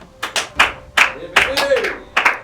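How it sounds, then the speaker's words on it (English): A few people clap sparsely during a comedy stage show, giving about eight separate, uneven claps with gaps between them rather than full applause, while a voice murmurs underneath. "Please clap."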